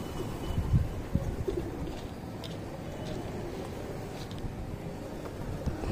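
Low, soft cooing of pigeons repeats through a steady noisy background, with a few brief bird calls scattered across the clip.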